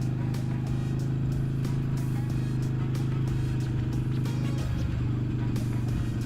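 A 300cc motorcycle riding along a street, its steady low engine drone running continuously and loud, with faint clicks and people talking over it.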